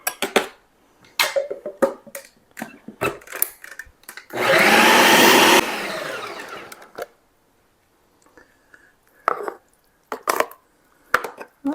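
A kitchen blender purees cooked pumpkin chunks in one loud, steady burst of about a second, between scattered knife chops, clatter and handling knocks on the counter.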